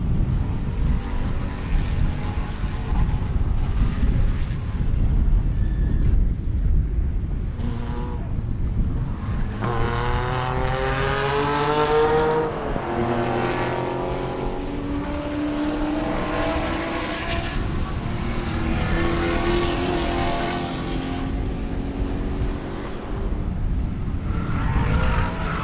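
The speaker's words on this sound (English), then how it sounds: "Hear the cars out there on the racetrack" Spec Corvette race cars at the Sebring racetrack roar past one after another, engines rising and falling in pitch as they pass close by and fade, with loud engine noise throughout and no talk.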